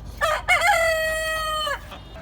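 A rooster at feeding time gives a single loud, close crow, drawn out and falling at the end, after a couple of short clucks, with chickens nearby as wheat is scattered.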